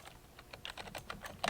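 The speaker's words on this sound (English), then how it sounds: "let's go ahead and type in" A rapid run of light keyboard clicks sounds on a computer during software setup, close and fairly quiet, with no voices.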